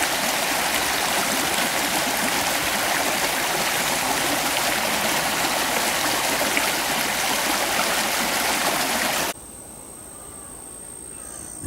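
Small waterfalls splash steadily in a low creek during drought, a continuous broadband rush of water that runs without a break before cutting off abruptly near the end, leaving quieter ambience with a faint high insect tone.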